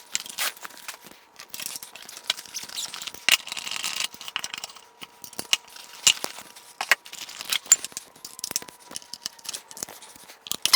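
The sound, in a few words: setting up RCF Evox 12 speaker system, handling cables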